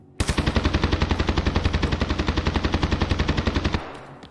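Sustained automatic gunfire in Escape from Tarkov, a loud close burst of about thirty rapid evenly spaced shots lasting over three seconds, then stopping abruptly into a brief quiet tail.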